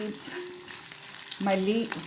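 Small shallots and garlic roasting in a pan for a fish curry with raw banana, a soft, close sizzle with brief scraping and stirring sounds near the end.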